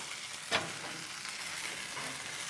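Strip steak and onions sear on a Blackstone griddle, a faint, steady sizzle with one brief sharp scrape or clank early on.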